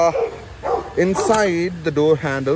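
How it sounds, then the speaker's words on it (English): Rottweilers bark loudly and close by in a rapid, uneven burst of deep barks and yelps. A voice speaks at the same time. "There's Rottweilers barking here."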